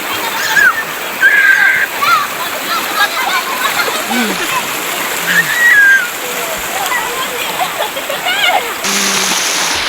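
Mountain water at a tourist spot rushes and splashes loudly in a constant flow, close by, while people talk and call out over it.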